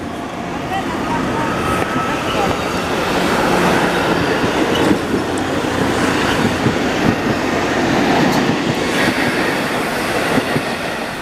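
A Montreal commuter train rumbles past nearby with a steady, continuous roar and faint rail clatter, while a voice talks intermittently over it.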